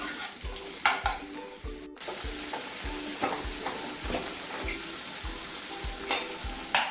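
Tomatoes sizzle in a hot pan for a vegetable curry while a spoon scrapes and stirs them in a steady, regular rhythm, close and fairly loud, with no talking.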